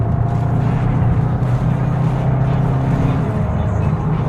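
A Golf GTI pulls an overtake, its engine a steady, muffled low drone heard from inside the cabin, with little rise or fall across the few seconds.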